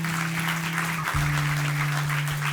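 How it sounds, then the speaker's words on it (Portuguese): Church congregation clapping together during a year-end service, a steady broad wash of applause over a sustained low organ or keyboard tone that shifts pitch partway through. "Dê uma salva de palmas ao Senhor"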